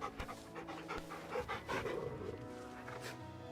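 A dog pants in quick, steady breaths in Final Fantasy XVI, with a few soft whimpers mixed in. The panting is close and moderately loud over a low game ambience.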